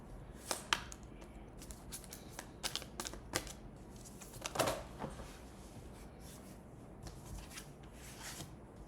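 Tarot cards being shuffled up close, soft riffling and sliding with scattered sharper snaps and taps in a quiet room.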